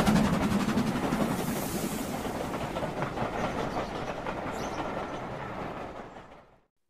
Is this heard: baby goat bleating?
no